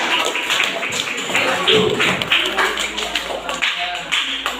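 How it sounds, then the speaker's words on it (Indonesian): A classroom of students claps for a presenting group after a social studies lesson, a dense, close patter of hands with some thumps and faint voices mixed in. "beri tepuk tangan dulu untuk kelompok 5"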